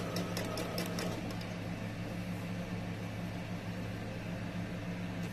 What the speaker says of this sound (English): we're just going to do a nice straight stitch and make a hem in on our project